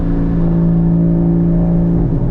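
Porsche Cayman GT4 engine with a Fabspeed exhaust revving at half throttle: a loud, steady, droning exhaust note that holds and climbs, with a slight dip near the end and no talk over it.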